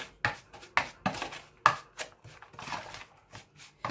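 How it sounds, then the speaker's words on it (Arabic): A knife chops a lemon on a cutting board for a fish stuffing, giving a series of sharp, close, irregular thuds with bursts of slicing noise between them and no speech. "غادي نعمل شوج ديال الليمون"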